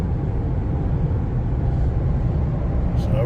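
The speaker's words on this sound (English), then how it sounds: "You can hear the truck, hear the engine on the Chevy Colorado ongoing" A Chevy Colorado truck engine runs with a steady, low rumbling drone heard from inside the cab, loud and continuous with no distinct revs.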